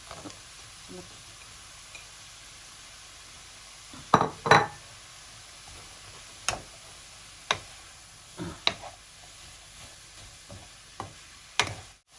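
A spoon stirs a chicken breast curry with homemade pickled bamboo shoots in a pot, giving sharp scattered clinks and taps against the metal over a faint background hiss.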